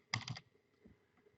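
A short burst of several quick keystrokes on a computer keyboard, close and crisp, followed by quiet room tone.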